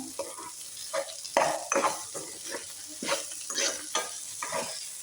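Okra (bhindi) sautéed in a pan with a spatula, near and fairly loud: a run of irregular scraping stirs over a soft steady sizzle, with no talk.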